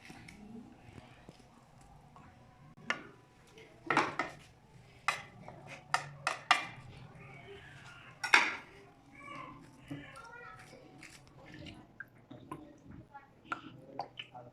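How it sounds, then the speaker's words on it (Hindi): A knife cutting the stalk off a peeled, roasted brinjal, heard as a few quiet, scattered taps and sharp clicks against a board, with soft handling noises between them. "इस डंडी को छुरी से काट ले रही हूँ"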